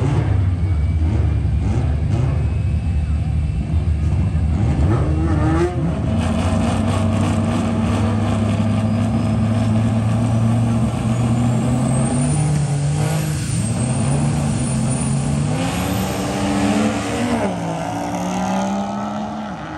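A drag racing truck running on Tune 3 under a hard launch, its engine droning loud and steady throughout with a low rising pitch sweep partway through, close and continuous with no voice.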